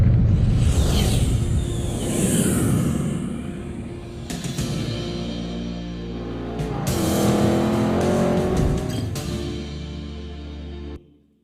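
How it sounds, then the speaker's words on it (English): Sports cars fly past one after another in a phone speaker demo, with loud whooshing engine roars sweeping by, fading and then surging again before the sound cuts off abruptly. "you will hear and feel sports cars flying past you"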